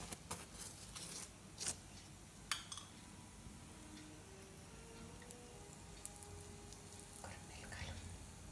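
Puran poli cooking in ghee on a pan over low heat, giving a faint, quiet sizzle with a few soft crackles and pops scattered across the sound.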